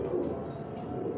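Breeder pigeons kept in a rooftop coop room coo in a soft, steady low murmur, several birds overlapping close by.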